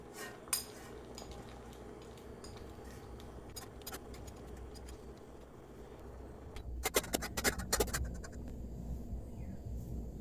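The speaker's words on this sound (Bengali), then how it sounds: "এখন আমি স্টিমার ও চকলেট দিয়া বালা করে মেল্ট করমু। মাঝে মাঝে লাড়িয়া দেওয়া লাগবো।" A spoon stirring chocolate as it melts in a bowl over a steamer, heard as repeated close metallic scrapes and clinks against the bowl. The scraping grows busier and louder toward the end, under a soft background hiss.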